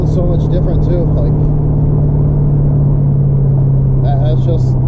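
A Dodge Hellcat's engine drones low and steady from inside the cabin while driving, with firm shifts. Someone talks over it at the start and again near the end.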